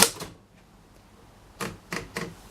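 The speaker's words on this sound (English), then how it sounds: "when you press that key down hard enough, it will smack against the ink ribbon here" An Imperial Model 50 typewriter strikes a few keys against the ink ribbon: one sharp clack, a pause, then three crisp, close, evenly spaced key strikes.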